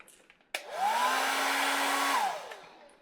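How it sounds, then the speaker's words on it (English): A hair dryer switches on with a click, whirs steadily with a rising and falling tone, then shuts off, close and fairly quiet in an otherwise silent room. "We have our hair dryer."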